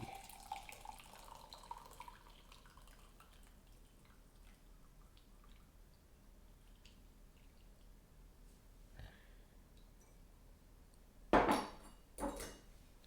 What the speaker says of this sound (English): I'm also going to pour my tea.